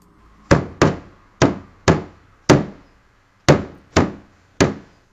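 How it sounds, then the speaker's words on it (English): Eight sharp AI-generated hammer blows on a wooden surface, loud and close, in an uneven rhythm, each a crisp knock with a short decay, no voices. "The default here is a hammer hitting a wooden surface."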